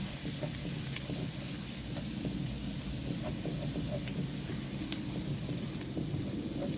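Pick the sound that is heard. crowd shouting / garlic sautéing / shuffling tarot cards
garlic sautéing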